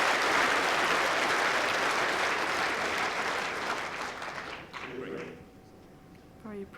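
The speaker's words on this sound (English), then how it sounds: "Very appreciative crowd." A crowd at a world bowls championship applauds in a loud, steady wash of clapping that fades after about five seconds into quieter scattered claps.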